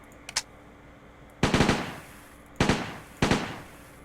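A Thompson M1928A1 submachine gun firing in a video game: a few quiet clicks, then three loud, close bursts of rapid shots, each a short rattling string with a ringing tail.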